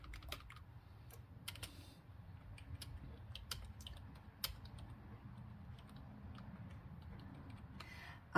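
Quiet typing on a computer keyboard: a steady patter of soft key clicks over a low background hum, with no voices.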